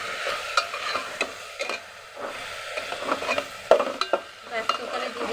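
Vegetables, lentils and spices fry together for khichuri, a low steady sizzle punctuated by repeated scraping stirs of a spoon across the pan, close and moderately loud.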